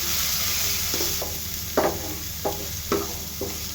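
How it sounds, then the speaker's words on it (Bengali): Chopped onion and garlic fry in oil with garlic paste, a steady sizzle underneath a few sharp spatula scrapes and taps against the pan, fairly close. "পেঁয়াজ রসুনগুলো ভাজা হয়ে গেছে"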